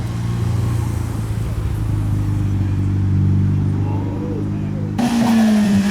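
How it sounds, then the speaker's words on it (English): A Nissan 350Z's engine revs at a car meet, a loud sustained drone that swells and holds before the tone shifts sharply near the end, with people talking and roadside noise around it. "Oh, there you go, he's revving it."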